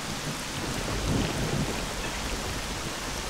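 Steady rain pours in the S.T.A.L.K.E.R. Shadow of Chernobyl game world, a dense hiss of rainfall with a low rumble of thunder swelling briefly near the middle, no voices over it.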